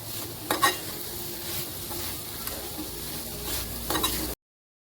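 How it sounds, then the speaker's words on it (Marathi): A spoon scrapes and stirs jaggery and grated coconut modak filling in a hot pan, with a steady soft sizzle and a few clinks against the metal. "मस्त छान हलवून घ्यायचं. गुळ वितळायला पण लागतं."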